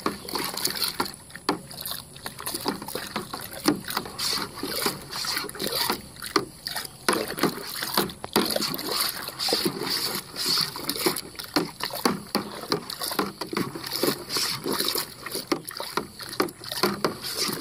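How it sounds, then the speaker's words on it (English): Beer wort for a honey blonde ale splashed and sloshed around to aerate it, giving a steady run of close, irregular watery splashes and churning throughout. "we're going to kind of splash this around good. We want to aerate this wort really well."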